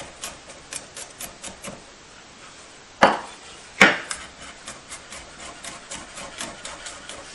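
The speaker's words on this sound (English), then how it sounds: "And then you just chop it up." A kitchen knife chops garlic on a cutting board in quick, light, evenly spaced taps, close and fairly quiet, broken by two sharper, heavier knocks midway, with no talking.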